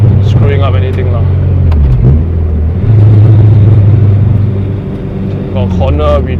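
A K24-swapped Honda Civic EK sedan engine drones low inside the cabin on a test drive, with a steady rumble, a brief dip and rise in pitch, and someone talking over it.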